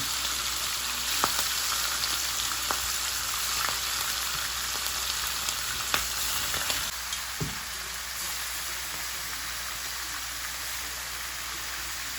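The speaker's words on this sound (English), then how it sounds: "I'm frying my chicken." Chicken sizzles steadily in a hot pan, a continuous crackling hiss with occasional sharper pops and a soft scrape or two.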